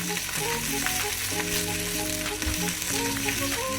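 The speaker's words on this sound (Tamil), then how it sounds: "இது வந்து நல்லா ஃப்ரை ஆகிட்டுருக்கு" Fish wrapped in banana leaf fries in oil in a pan, giving a steady, close, dense sizzle with crackling bursts throughout and no voices.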